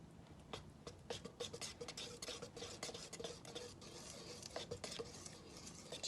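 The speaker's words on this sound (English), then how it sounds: "So now I'm going to stir in a little bit of the yolk mixture to our egg white mixture at a time." Egg yolk mixture being stirred into an egg white mixture for silver dollar pancakes, faint close scraping and soft irregular taps of a utensil against a bowl, quiet with no talking.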